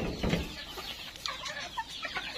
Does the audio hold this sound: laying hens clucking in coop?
yes